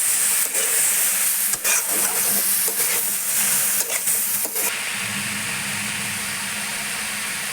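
Boiled banana flower, chickpeas and potato being stirred in a hot pan, with a steady sizzling hiss and several scraping spatula strokes in the first half, then continuous frying alone.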